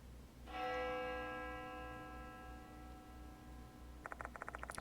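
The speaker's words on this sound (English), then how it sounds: "The sound of a bell echoes in my ears." A single bell struck in the video game Death Mark 2, ringing out clearly and fading over several seconds above a low steady background, followed by a quick run of faint ticking taps.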